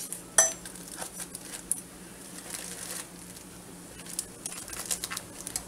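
A rotisserie-style chicken is lifted out of a crock pot, with soft, sparse clinks and scrapes of utensils against the pot, including one sharp knock early on, all fairly quiet with no talking.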